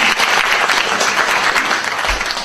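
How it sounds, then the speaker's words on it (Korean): Audience at a Korean community gathering applauding after a speech, dense sustained clapping from a crowd filling the room, loud and steady throughout. "지금 박수 쳤는데 박수 한번 더 쳐보겠습니다"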